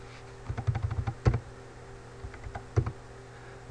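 Quick typing on a computer keyboard, close and fairly quiet, with a short flurry of key clicks, a pause, then a few more taps, in an otherwise quiet room.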